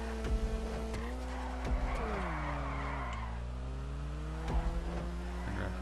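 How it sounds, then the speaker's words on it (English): An Übermacht Sentinel Classic, modeled on a BMW M3, in GTA 5 drones with a steady engine exhaust note that rises and dips, broken by brief sharp tire-skid bursts. "I like the sound of the exhaust when you let off of the gas"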